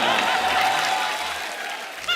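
A studio audience on a comedy talk show claps to welcome a guest on stage, loud dense applause that gradually fades.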